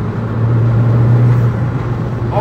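A Vauxhall Corsa VXR drives along a road with a steady, droning engine hum and road rumble that stays even and close for the whole stretch, with no talk.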